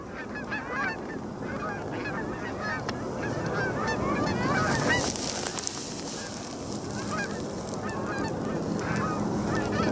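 A flock of geese honks repeatedly overhead, many calls overlapping in a noisy chorus that grows louder and closer.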